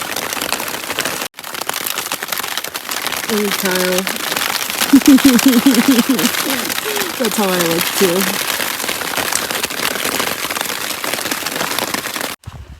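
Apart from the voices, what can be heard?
hail and rain falling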